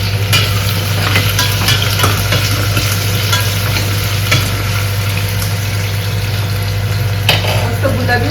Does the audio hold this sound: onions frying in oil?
yes